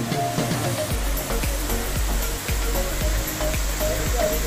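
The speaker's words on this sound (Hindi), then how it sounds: "जबल के साइड पे है ये वाला झरना।" The Ayn Athoum waterfall on the mountain side near Salalah in Dhofar roars as a loud, constant rush of falling water, with regular low thumps running beneath it and no voices.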